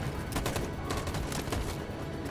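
Dense, rapid covering gunfire from the video game Detroit: Become Human, shots crackling in quick overlapping bursts at a steady loud level without a break.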